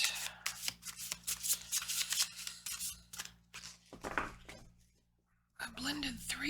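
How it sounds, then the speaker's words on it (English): Three oracle card decks blended into one thick stack are shuffled in repeated crisp riffling bursts up close, pausing briefly before a final burst, with quiet talk in the background. "I blended 3 oracle decks together here."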